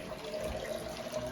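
Water pours steadily into a glass aquarium, a continuous moderate rushing and splashing stream with no pauses.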